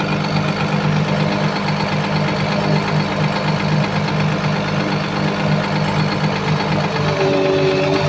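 Komatsu PC220-7 excavator diesel engine running steadily throughout, loud and close, with a steady hum and a rising hydraulic whine toward the end as the arm moves slowly up and down; no talking.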